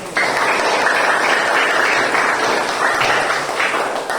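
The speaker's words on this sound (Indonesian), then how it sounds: "Tepuk tangan untuk Afika." A classroom audience applauds a student in an open coding and artificial intelligence lesson, a dense, steady wash of clapping that starts abruptly, holds evenly for about four seconds and fades slightly at the end, with no talk over it.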